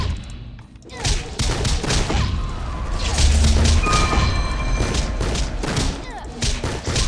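Shotgun blasts in the action game RWBY Grimm Eclipse, several sharp booming shots and crashing impacts amid chaotic combat, loud and up close with no speech.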